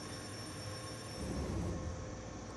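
A train on the Eizan Electric Railway Kurama line in a Japanese train driving game rolls along with a steady low rumble and rail hum, swelling briefly midway, with no voices over it.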